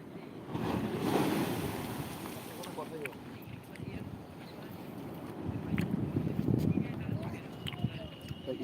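Rough surf at Shankarpur beach rumbles and swells continuously with gusty wind noise while someone speaks over it.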